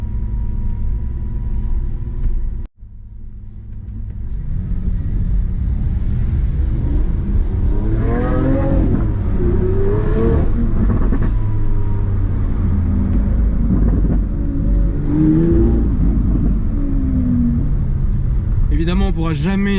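A powerful Lamborghini Aventador S engine idles in neutral, then revs hard several times with rising, roaring pitch, loud and close, with brief pauses between bursts.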